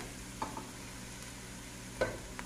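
Cabbage tipped into a pan of frying onion, giving a quiet steady sizzle with a couple of sharp scraping stirs of a spoon.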